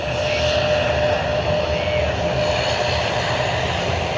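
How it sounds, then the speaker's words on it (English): Dash 8 turboprop taxiing at Sydney Airport, a steady broadband propeller and engine drone with a faint high whine, continuous and fairly near. "quite a lot of taxiing action, the Dash 8"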